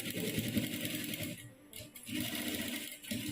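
A sewing machine stitches a curved seam in fabric, a rapid close mechanical rattle in two bursts with a brief pause between them.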